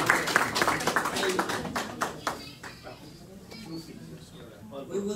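Audience at a community award ceremony with a New York assemblyman giving a burst of clapping that thins out, with a voice talking over it.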